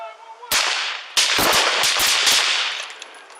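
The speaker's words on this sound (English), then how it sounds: "Shots fired. We got shots fired." Gunfire in a police shootout in Pasadena, California: two loud bursts of rapid shots crack out close by, the second a dense volley of overlapping reports fading into echo.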